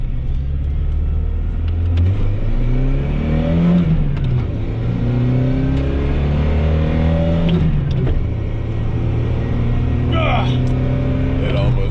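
Old 110-horsepower, roughly 3,200-pound car, about 30 years old, accelerating through several gear changes, its engine rising and falling in pitch under people talking.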